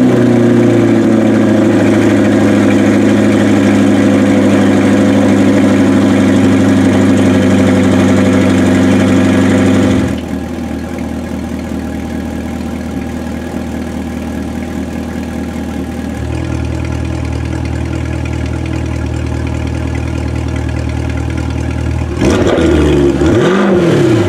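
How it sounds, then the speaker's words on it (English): A 2020 Corvette C8 3LT runs with a steady, loud exhaust idle that deepens and drops in level as driving modes change, ending with a brief rising rev near the close; no talking. "I started the engine and then I went between the different driving modes so you can hear what the exhaust sounds like in each one"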